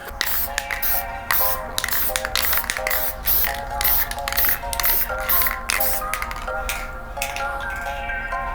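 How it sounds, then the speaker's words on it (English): Krylon matte finish spray being applied outdoors to restored 2007 Air Jordan 1 sneakers, heard as repeated short hissing aerosol bursts with rattly clicks between them, close by and fairly loud. "go outside and spray it with some Krylon matte finish"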